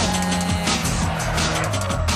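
A Nissan drift car driven by Brett Castle at a drifting competition squeals its tires over a loud, steady engine roar, the pitch sweeping up and down as it slides, with no talk.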